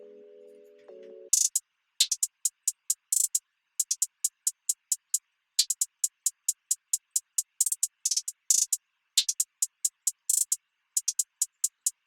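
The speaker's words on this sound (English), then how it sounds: "I'm gonna play the hi-hat alone." A lone hi-hat pattern from a bouncy beat, with crisp, bright ticks that fall in quick bursts and short rolls after a brief low synth tone at the start.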